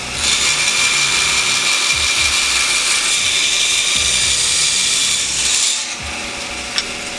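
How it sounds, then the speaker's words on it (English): A power saw cuts through thick wooden planks for a rabbit hutch, a loud, steady, close-up whine and rasp that runs for several seconds before dropping off, with no talking. "I think I want to cut them down, maybe turn them into 2."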